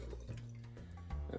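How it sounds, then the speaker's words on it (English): Rendered duck fat poured through a funnel into a bottle, a soft, close gurgling and dripping of liquid with small glugs over a second or so, no talk. "Take your rendered duck fat and just kinda pour that in there"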